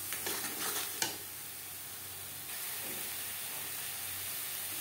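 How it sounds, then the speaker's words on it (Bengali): Salt, turmeric and spices being stirred into an onion-tomato paste in a pan for fish curry, with a constant hissing fry, a few scraping spoon strokes early on and a sharp knock against the pan. "লবণ, হলুদ ও মশলা পেঁয়াজ টমেটোর সাথে বেশ ভালো করে মিক্সড করে দেব"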